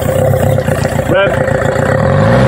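A VW 1.9 TDI diesel engine being revved to about 1,500 RPM during EGR valve cleaning, loud and close, with a brief rising whine near the middle before the engine settles back and begins climbing again, under nearby talk.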